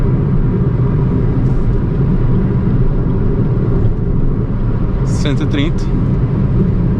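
A 2025 BYD Dolphin Mini electric car speeds along at high speed, heard from inside as a steady, loud rumble of road and wind noise, with a voice briefly over it.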